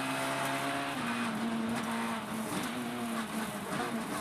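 A Subaru Impreza rally car powers through a stage of the 2013 European Rally Championship in Austria, its engine roaring loud and close at high revs, the pitch wavering slightly as it drives on.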